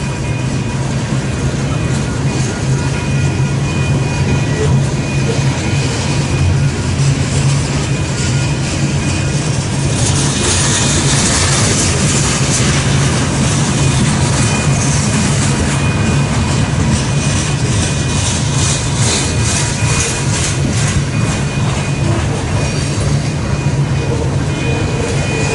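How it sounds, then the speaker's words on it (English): A westbound Union Pacific freight train on the Transcon line near Fremont, Nebraska rolls by as a loud, steady rumbling roar with a continuous low drone, sustained throughout without speech. "Heading westbound on the Union Pacific Transcon line."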